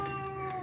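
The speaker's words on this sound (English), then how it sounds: "That's my cat." A domestic cat meows once indoors, a steady tonal cry that holds for under a second, close and fairly quiet with no talk over it.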